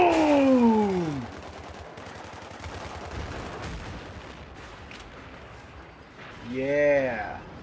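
Battlefield 3 gunfight with a suppressing barrage of crackling shots and dull distant booms rumbling throughout, a voice-like harmonic shout at the start and another near the end riding over the din.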